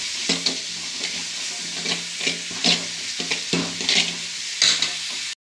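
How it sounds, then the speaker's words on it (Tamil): Chopped onions and chillies fry in a pan with a steady, loud hiss, broken by regular scraping stirs of a spatula, with no voices. "தாளிசம் பண்ணி கட் பண்ணி வச்சுருந்த வெங்காயம், மிளகாய் போட்டு ஃப்ரை பண்ணுறேன்."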